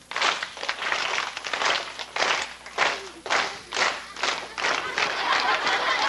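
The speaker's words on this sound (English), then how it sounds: "Some of you sixth graders are still waiting to clap." A crowd of sixth graders at a school assembly show claps together in rhythm, loud repeated bursts of many hands forming a steady pulsing beat that rises and dips in waves.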